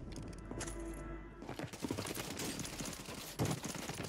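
Rapid gunfire erupts in a Warzone gunfight, a dense burst of shots with a few sharper cracks, loud and close, continuing over about four seconds of game noise.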